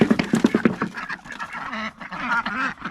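Several ducks quack in a rapid burst, loud and close, with the calls continuing and overlapping into noisier, scattered squawks.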